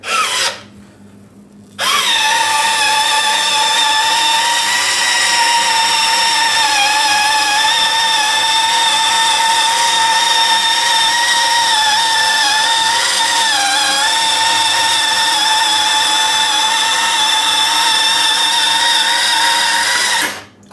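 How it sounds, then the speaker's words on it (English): A battery-powered, rechargeable Hamilton Beach electric can opener opens a can: a brief quiet start, then a continuous high-pitched motor whine that runs steadily for nearly twenty seconds before cutting off. "Hamilton Beach can opener. Check this out. It's battery powered, rechargeable."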